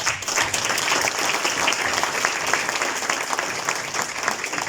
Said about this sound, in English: I'd like you to just join me to give them a round of applause